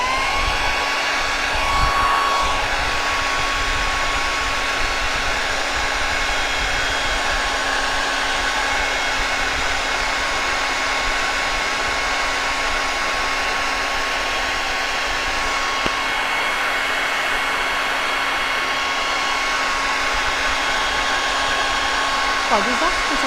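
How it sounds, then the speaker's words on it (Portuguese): A hair dryer blows over fresh painted strawberries and orchids on a woven basket, a loud, steady whooshing hum that runs without a break. "Vou bater um pouquinho o secador, tá?"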